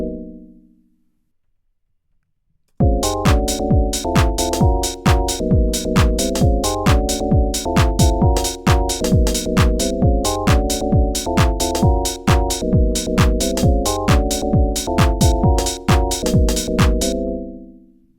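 House beat built in FL Studio, a steady four-on-the-floor kick with punchy stabs and percussion looping tightly, loud and close, after a brief low tone fades out.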